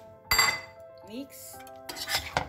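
Spaghetti carbonara with zucchini and egg being tossed in a dish, heard as a few close clinks and scrapes of utensils against the plate, separated by brief pauses, with a short voice in the middle.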